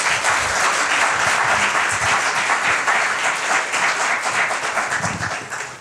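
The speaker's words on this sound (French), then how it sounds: "On peut applaudir Natacha." A crowd applauds steadily at a show's grand finale, full and sustained clapping that tapers off near the end.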